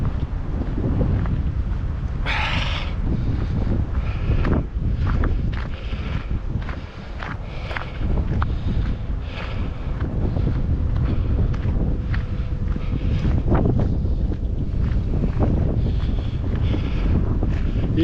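Strong wind buffets the microphone beside Lac de Cavayère, a constant loud rumbling roar with gusty surges and no pause over the whole stretch.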